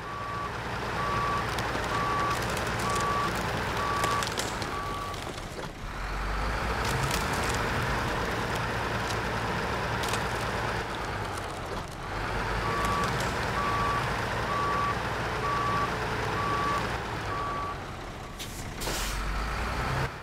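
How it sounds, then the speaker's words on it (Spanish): A truck's reversing alarm in the SnowRunner video game, repeating steady evenly spaced beeps over a continuous engine and air-brake drone, with a brief pause in the middle before the beeping resumes. "Suena hasta bonito la alarma de reversa."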